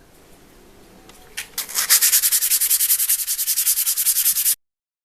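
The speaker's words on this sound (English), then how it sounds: "So I've been sanding for about 20 minutes" Sandpaper rubbed on a metal part of a 1910s pop gun being restored, first light and irregular, then a loud, fast, even run of back-and-forth strokes that stops abruptly.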